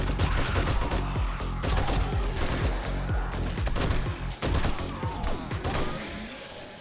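Rapid bursts of gunfire against zombie hordes in 7 Days to Die, dense repeated shots in quick succession, loud and close, sustained nearly throughout with brief gaps near the end, no speech over it.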